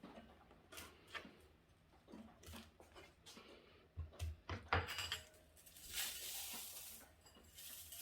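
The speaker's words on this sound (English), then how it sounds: "So I'm just gonna Just crush them in the bowl." Weet-Bix biscuits are crushed by hand in a bowl, making soft crumbly crunches and rustles with a few light knocks, close and fairly quiet.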